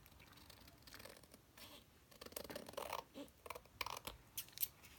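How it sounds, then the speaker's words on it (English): Scissors trim chipboard close up, with quiet, irregular snips and crisp cutting crunches that grow more frequent toward the end, plus faint paper rustling between cuts. "this needs to be trimmed a little bit more on the bottom"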